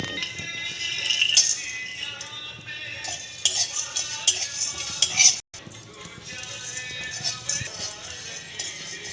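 Whole spices (coriander seed, cumin, nutmeg, mace, lotus flower, cardamom, cloves and cinnamon) being dry roasted in a pan for Bengali chicken sundari, with busy rattling and clinking as they are stirred and tossed, near and continuous.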